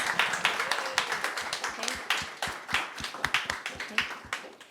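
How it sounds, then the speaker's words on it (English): An audience at a blockchain community meetup applauds panelists, a dense patter of many hands clapping in a room, steady and moderately loud before tapering off, with faint voices underneath. "Please give them a round of applause."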